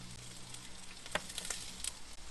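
Ingredients sizzling in a hot wok, a soft, steady frying hiss at moderate distance with a few faint clinks and crackles over it.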